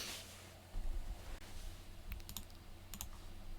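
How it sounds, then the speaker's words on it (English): Typing on a computer keyboard during a drawing session, a run of light irregular clicks at close range, fairly quiet over a low background hum, with no talking. "Ignore me and my terrible typing skills."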